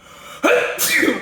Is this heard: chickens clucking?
no